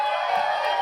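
A comedy club audience in Wellington cheers and whoops loudly, a dense sustained roar of voices.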